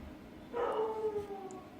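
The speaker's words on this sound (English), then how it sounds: "Noisy dog." A dog gives a single short howling bark, faint and somewhat distant, rising out of quiet room tone and trailing off over about a second.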